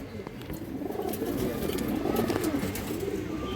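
Pigeons coo in a steady, continuous low murmur that carries through the whole stretch, close and fairly loud, among ornamental breeds such as China khaki and kaldom held for sale.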